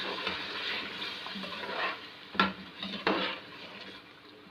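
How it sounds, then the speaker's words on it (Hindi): Beef with yogurt fries in a pot as a soft sizzle runs beneath intermittent stirring, with two sharper clanks of a spoon against the metal partway through. "अब हम इसके अंदर दही शामिल कर लेते हैं और फिर थोड़ा सा भून लेते हैं इसको"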